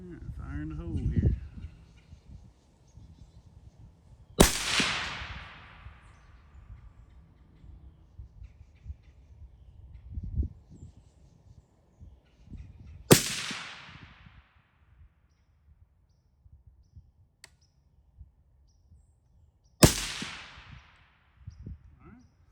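Three sharp gunshots from a 22 ARC rifle, each a loud crack with a decaying tail, spaced several seconds apart outdoors, with quieter handling noise and faint talking between shots.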